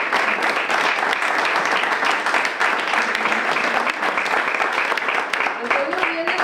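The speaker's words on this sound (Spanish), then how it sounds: "Un aplauso, por favor." Sustained crowd applause from an audience at a storytelling event in Quintana Dueñas, steady and dense for the whole stretch, with faint voices underneath.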